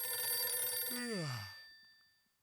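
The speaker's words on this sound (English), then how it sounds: "Where's the phone? Oh, this better be life or death." A telephone bell rings with a bright, sustained metallic trill that cuts off and decays as a falling tone, close and without talk.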